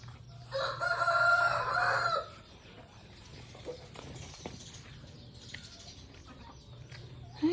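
A rooster crows loudly once on a small farm in Davao de Oro, followed by softer scattered clucks and rustling from chickens nearby.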